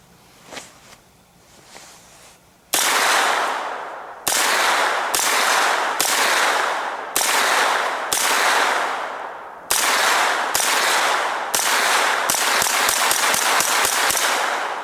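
A Colt 9mm AR rifle fires Winchester steel-case ammunition, a run of loud, sharp shots spaced about a second apart that speed into a quicker string near the end, after a few quieter handling noises.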